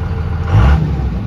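A 2nd gen Cummins diesel truck engine blips up in a quick single rev over its low idle rumble, rising briefly then settling back, close and loud, no talking.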